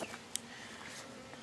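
Honeybees in an open hive during a colony inspection give off a faint, soft buzzing hum, with a few brief louder wing-buzz passes close by.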